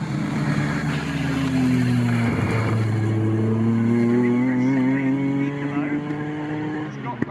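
Honda Civic and Renault Clio race cars battling at Snetterton in a club race, engines droning loudly and steadily with pitch sweeping up and down through gear changes, close and continuous throughout, with commentary talk running over the engine noise.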